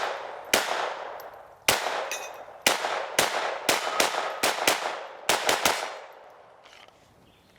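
A Sig Sauer P322 pistol fires about a dozen sharp, loud reports, each with a ringing decay. They come in an uneven rhythm of single shots and quick pairs, heard close with no talking.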